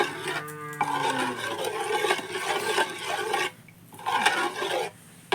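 Semolina with a little water being stirred in a pan, a close, steady rasping scrape that runs continuously with brief pauses.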